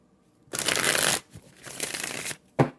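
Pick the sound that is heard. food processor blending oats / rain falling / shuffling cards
shuffling cards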